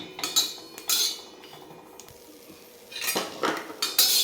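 Green chillies dry-roasting in a pan without oil, heard as bursts of metal clatter and spatula scraping against the pan, loud at the start and end with a quieter stretch between.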